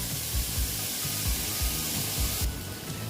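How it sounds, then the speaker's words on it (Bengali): Young jackfruit fries in a pan with onion, giving a steady, close sizzling hiss that barely changes over the few seconds. No one speaks. "ভালো মতন আমি ভেজে নিচ্ছি যেন কাঁচা গন্ধটা চলে যায়"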